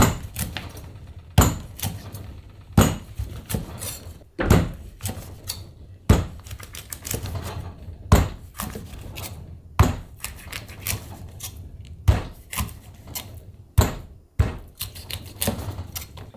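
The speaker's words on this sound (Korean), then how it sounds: "잘라 볼게요. 짤막짤막하게." A whole dried pollock being chopped into short pieces, sharp heavy knife strikes on a board landing roughly once a second in an uneven rhythm, close and loud with no talk.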